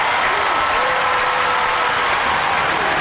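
A studio audience cheers on the new Robot Wars champions with loud, sustained applause, a thick unbroken roar of clapping that fills the space from start to finish.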